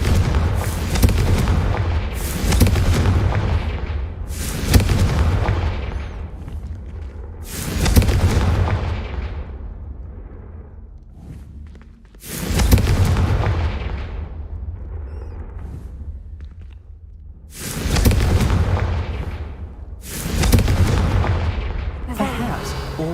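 Confringo fire spell blasts in Hogwarts Legacy, five loud booming bursts spaced a few seconds apart, each decaying into a rumbling tail over a low game ambience.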